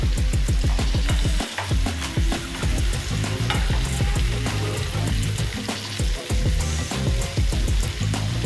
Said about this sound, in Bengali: এরপর আমি কুমড়োটা দেখব কীরকম ভাজা হয়েছে।